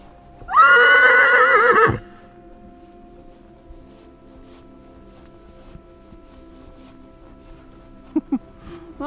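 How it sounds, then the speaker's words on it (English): A horse neighs once, a long clear whinny lasting over a second, followed by quiet with faint background noise and a couple of soft knocks near the end. "It's very strange that there's a horse over there calling."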